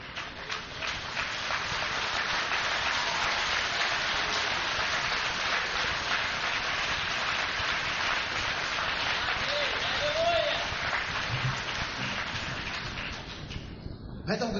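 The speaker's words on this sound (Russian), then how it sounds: "Дайте Иисусу аплодисменты." A church audience applauds for Jesus during a service, a dense, sustained wash of clapping that carries steadily for most of the stretch before tapering off near the end.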